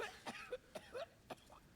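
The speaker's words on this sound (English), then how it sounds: "Wedge has got a cough." Wedge, a character in Final Fantasy VII Remake, gives a series of four or five short, dry coughs in quick succession, fairly quiet and close, with no other voices.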